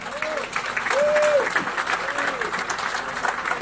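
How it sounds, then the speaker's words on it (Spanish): Applause from an audience fills the space, steady clapping throughout with a crowd murmur, while a few sustained tonal swells drift over it. "recibámoslo con un aplauso"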